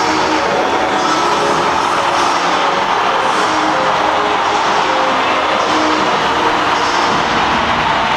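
A deafening stadium crowd roars without a break at a rugby sevens semifinal between Argentina and South Africa in Port Elizabeth, a dense, loud, continuous wash of noise with no clear individual voices.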